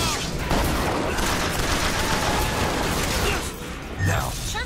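Gunfire in the Bioshock Infinite video game aboard an airship, a dense continuous fusillade of shots and bursts under constant game noise, with someone talking over it.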